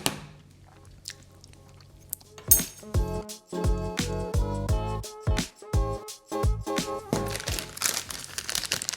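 Soft mint ice cream is scooped from a Ninja Creami tub into a bowl with a run of close, wet scraping, squishing and clinking spoon sounds, sparse at first and then busy and continuous.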